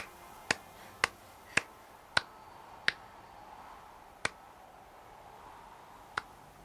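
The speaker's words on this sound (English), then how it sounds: "I'm gonna give you a slow clap." Seven slow, sharp hand claps spaced unevenly about half a second to two seconds apart, close and crisp over a faint quiet background.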